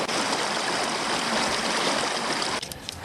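A waterfall on a hiking trail in Cape Chignecto Provincial Park pours in a loud, steady broadband rush close by that fills the scene without a break, then drops away sharply near the end as the listener moves off.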